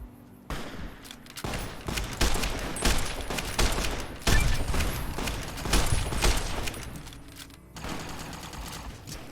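Rapid bursts of energy-weapon gunfire from Fallout New Vegas, loud and close, coming in dense clustered volleys with brief gaps between them and no talk over it.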